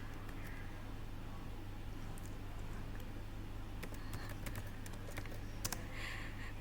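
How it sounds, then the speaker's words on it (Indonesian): Close keystrokes on a computer keyboard as a command is typed at a Red Hat server terminal, a short burst of quick taps over a steady low hum. "Berarti ini kita ketik lab"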